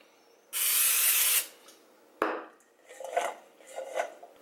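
Cooking spray is sprayed onto green beans in a single steady hiss of about a second, followed by a few soft rustling tosses.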